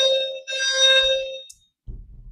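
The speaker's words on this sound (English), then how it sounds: "They're supposed to tell us when they do this to test the fire alarm." An indoor fire alarm being tested rings loudly in two harsh, tonal bursts, then falls silent, and a low rumble follows.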